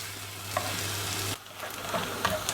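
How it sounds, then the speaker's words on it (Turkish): Onions sauté in a pan for bulgur pilaf, a steady close sizzle and crackle with a short dip mid-way, then soft stirring scrapes as the frying continues. "Soğanların rengi e, değişene kadar kavuruyoruz"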